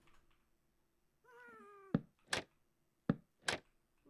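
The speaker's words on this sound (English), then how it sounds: "I love that ghasts sound like cats." Ghasts from the video game Minecraft, a single drawn-out cat-like meow followed by four sharp percussive thuds and bursts in pairs, close and clear against quiet.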